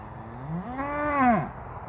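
A single cow lowing in a field where geese have landed, one rising and falling moo of about a second, close and clear over a quiet outdoor background.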